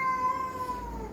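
A cat gives a short, drawn-out meow, close and fairly quiet, heard alone.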